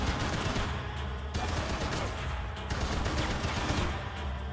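Sustained gunfire in the Max Payne 3 video game, a dense continuous burst of shots filling the whole stretch with a brief break midway, loud and close, with no talking.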